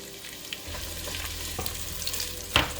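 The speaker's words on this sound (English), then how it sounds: "Now we're gonna saute the onion until they're slightly cooked." Onion sautés in hot olive oil in a pan, giving a continuous close sizzle with soft stirring scrapes and a brief sharper clatter near the end.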